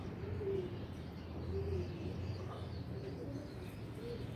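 Pigeons coo repeatedly in a low, rolling rhythm, several soft calls rising over a steady background hum, with no talking.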